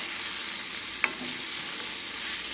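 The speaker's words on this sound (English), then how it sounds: "You just want to cook them till they have some flavor." Roasted peppers cook in a pan for Appalachian cornbread stuffing, making a steady frying sizzle with a single light utensil clink partway through.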